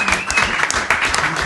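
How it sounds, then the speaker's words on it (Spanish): Short burst of audience applause at a live podcast festival taping in Argentina, loud and close, with scattered claps and some voices mixed in. "Un aplauso."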